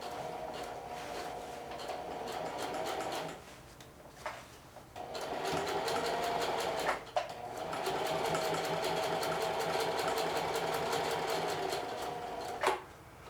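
A domestic sewing machine runs a straight stitch along a fabric hem. It whirs steadily and rapidly in two long runs, with a short pause and a couple of soft clicks between them.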